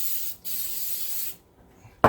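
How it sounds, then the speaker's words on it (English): Coconut oil cooking spray hisses onto a muffin pan in two steady bursts, the first about a second long and the second shorter, close up and alone. "First I'm gonna spray the pan down with coconut spray"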